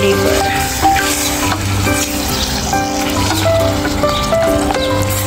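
Close, steady sizzling of chicken liver frying in a small pot outdoors in a backyard, with stirring clatter and a voice speaking over it.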